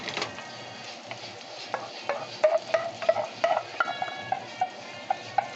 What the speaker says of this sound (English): So now we're gonna add the sauce we had cooling down on the side.